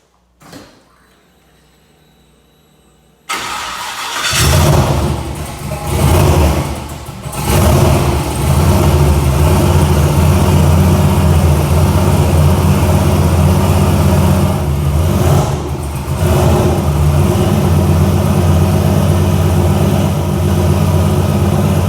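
A turbocharged OBS Ford truck engine fitted with a Holley Hi-Ram intake cranks briefly, then fires and settles into a loud, steady, rumbling idle with some early revving surges.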